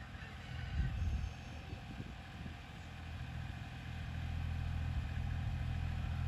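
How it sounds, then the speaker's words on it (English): A farm tractor maneuvers in the corner of a potato garden, its engine a steady mid-pitched rumble near the microphone. It swells slightly at first, then settles and holds on continuously with no talk. "he has to do a lot of maneuvering with the tractor"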